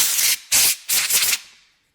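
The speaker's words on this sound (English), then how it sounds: "I get this can spray duster cleaner here, aerosol can, and you can kind of just spray off" Three sharp bursts of hissing spray from an aerosol air duster can cleaning fishing reel bearings, close and loud, the last trailing off into silence.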